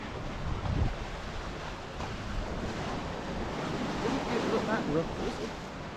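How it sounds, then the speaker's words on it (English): Big sea waves surge against a seawall at Sant Elm on Mallorca, a steady roaring wash with a heavier thump of impact near the start, blended with wind buffeting the microphone. "that wave was certainly a big wave that hit"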